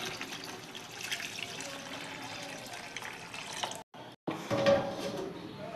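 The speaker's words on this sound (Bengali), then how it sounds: "এবার জল দিয়ে দেবো।" Water is poured into a pot of meat and potato curry, a steady splashing pour that runs for several seconds, breaks off briefly, then resumes. Faint talk sits beneath it.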